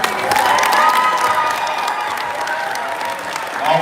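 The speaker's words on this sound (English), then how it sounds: "One more round of applause for Stanley Middle." A crowd at a girls' middle school basketball championship applauds steadily, with a few cheers and whoops mixed into the dense clapping, which holds loud throughout before swelling briefly at the end.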